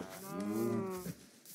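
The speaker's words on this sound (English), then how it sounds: "Holy crap, this place is overrun with cows." A cow mooing in Minecraft, one long, low, drawn-out moo lasting about a second, clear and close with no talking over it.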